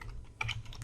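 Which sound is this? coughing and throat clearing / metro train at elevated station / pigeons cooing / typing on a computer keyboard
typing on a computer keyboard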